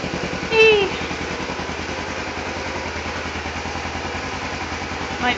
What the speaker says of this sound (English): I'm gonna go ahead and turn the bike off.